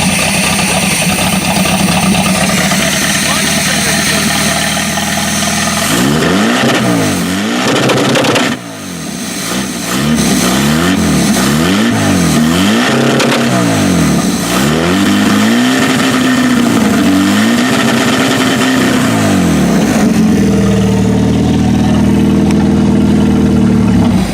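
A Buick engine idles loudly and close by, then revs up and down repeatedly in a series of swells before settling back to a steady run.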